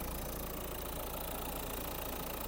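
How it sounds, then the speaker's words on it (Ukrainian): A 2019 Renault Kadjar Intens engine idles steadily with a continuous low hum and even mechanical drone, close and unbroken, with no talking. "Моторчик працює ідеально"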